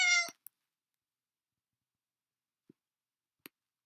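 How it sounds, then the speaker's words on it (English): A single short cat meow at the start, clear and close, followed by near silence broken only by a few faint clicks. "cat meow"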